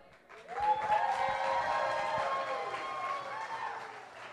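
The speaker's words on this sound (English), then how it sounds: "give a warm applause for Garrett" Audience applause for a comedian named Garrett at a stand-up comedy charity show, steady clapping from a crowd sustained for several seconds, with scattered cheering mixed in.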